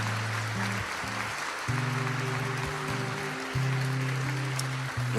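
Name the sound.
congregation applauding in church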